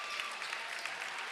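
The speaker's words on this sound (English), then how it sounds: "Round of applause from the crowd." Crowd at a high school basketball game in the Cougar Den applauds a player leaving the court, steady even clapping heard from a distance and fairly faint.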